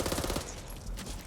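Gunfire aimed at zombies in Back 4 Blood: a short, steady rattle of rapid shots at a fairly low level, lasting only a moment over a dense background of game noise.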